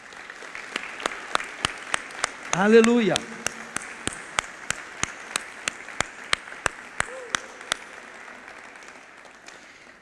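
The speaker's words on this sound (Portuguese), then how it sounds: "Salva de palmas para Jesus." A congregation at a Sunday church service claps in a steady rhythmic beat that keeps going for several seconds, with a voice calling out briefly over the sound.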